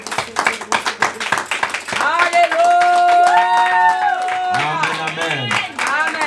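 A church congregation claps in a burst of applause, then raises sustained voices in cheering and jubilant, song-like calls that fill the room at close range.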